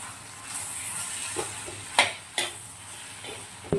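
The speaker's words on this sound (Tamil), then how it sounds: "இப்போ நம்ம அரைச்சி வச்சுருக்க மசாலாவை இதோடு சேர்த்து நல்லா வதக்கி விட்டுக்கலாம்." Ivy gourd (tindora) sautéed with freshly ground masala in a pan, giving a soft steady sizzle broken by a few sharp scrapes and clinks of the spoon against the pan.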